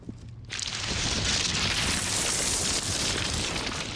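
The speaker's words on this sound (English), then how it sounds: "The explosion, the building will collapse." Explosion in a video game, a loud sustained roaring blast with dense broadband rumble that swells in after a brief quiet start and holds for several seconds, with no talking over it.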